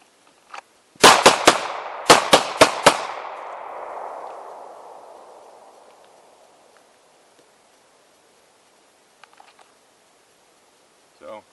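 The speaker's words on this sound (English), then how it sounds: "you're coming here, bam, bam, bam. The bullets are going right where your body's looking" Pistol fired during shooting practice, two quick strings of sharp, loud shots, three and then four, each ringing out into a long fading echo, followed by near silence with faint clicks.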